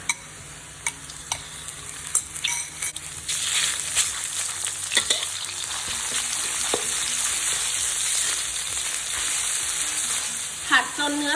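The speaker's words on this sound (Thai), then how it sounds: "จากนั้นเราจะนำเนื้อสัตว์ใส่ลงไปค่ะ" Close-up frying of meat stir-fried for instant noodles: a sizzle that swells louder partway through, with intermittent spatula scrapes and taps against the pan.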